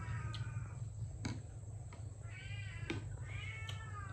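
A house cat gives several short meows in a row, faint and close, over a steady low background hum.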